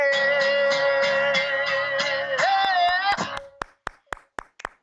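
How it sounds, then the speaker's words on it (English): A panel at a televised townhall claps: after a sung musical passage fades, a handful of sharp, evenly spaced claps ring out one by one, fairly close and distinct. "The whole panel is clapping for you"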